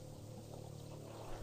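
Steady running shower water from a horror video game, The House 2, a continuous faint hiss of spray with a low sustained musical drone underneath.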